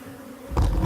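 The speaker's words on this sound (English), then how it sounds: "this is a hive of Africanized bees" A hive of Africanized bees buzzes close by, a low steady drone that swells suddenly louder halfway through, with no voices over it.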